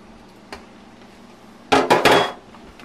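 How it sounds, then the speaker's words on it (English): Zucchini bread batter with sugar, vanilla and vegetable oil stirred in a bowl: a faint single scrape, then a close burst of three loud, rough scraping strokes, with no voices. "Stir that up good."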